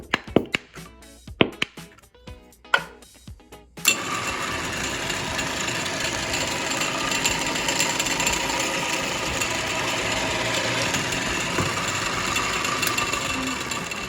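Sparse clicks and ratcheting taps from a hand tap cutting threads on a custom ATV build for a few seconds, then a steady loud mechanical grinding whir takes over, continuous and close.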